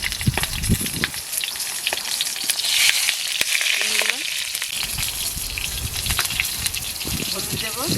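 Prawn-stuffed pointed gourds fry in hot oil in a rustic village kitchen, giving a steady loud hiss and sizzle with occasional stirring, while a voice speaks over it.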